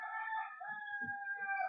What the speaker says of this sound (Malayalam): ഒരു കോഴി കൂയത് വേണം